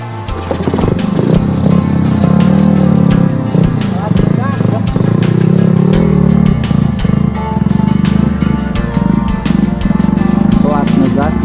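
Motorcycle engine revving and labouring on a forest trail in dense jungle, loud and close throughout with rising and falling throttle, while people talk over it.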